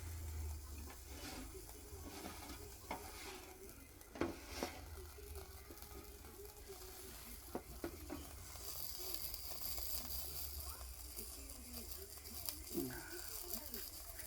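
A Lion 600 kerosene camping stove being lit, giving a low steady hiss and rumble with scattered clicks and small pops, faint and close, before a brighter hiss rises toward the end.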